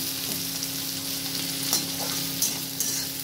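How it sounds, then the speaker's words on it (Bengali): Cumin seeds and chopped onion fry in oil, a steady sizzle with occasional stirring scrapes and small clicks from the pan. "ওই তেলেই একটু জিরে কেটে রাখা পেঁয়াজটা দিয়ে দিলাম। এটা এবার ভাজবো আমি।"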